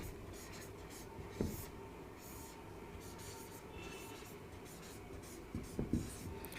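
Someone writes on a board during a classroom lesson, making faint scratchy strokes that run steadily in a quiet room, with a couple of slightly louder taps.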